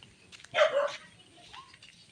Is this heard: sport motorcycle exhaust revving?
no